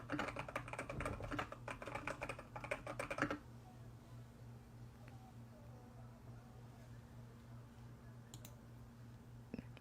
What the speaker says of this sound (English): This is how I type in real life. And if I have to type really fast.